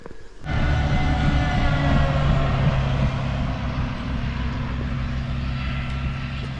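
A loud, heavy guided bus rumbles past close by on its guideway, a deep continuous roar with a droning engine tone that stays steady before easing slightly.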